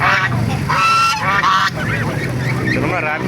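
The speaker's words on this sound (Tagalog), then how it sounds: "mga gansa maraming gansa" White and brown geese honk loudly and repeatedly close by at a livestock market, several birds calling over one another in harsh, nasal bursts.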